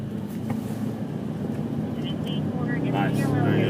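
A BMW M5 engine rises from a low drone to a louder, harder roar as throttle is added at a driving-school track. An instructor speaks over it throughout.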